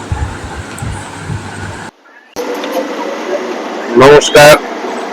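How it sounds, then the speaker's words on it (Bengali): Mumbai Metro train at the RA metro station, a steady rumble broken by a brief silent gap and then two loud harsh bursts, with a voice briefly speaking over it. "মুম্বাই মেট্রো"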